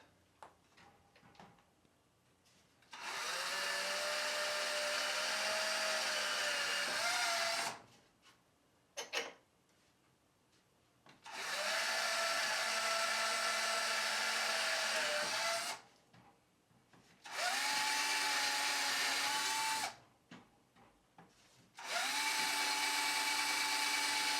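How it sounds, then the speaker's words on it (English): A power drill whirs in four separate bursts, each spinning steadily for a few seconds, with brief quiet gaps and faint clicks between. "we're going to start off drilling some pilot holes"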